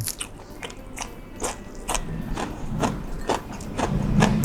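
Close, wet chewing and biting on beef dipped in jaew sauce, with rhythmic smacking and soft crunches and no talk.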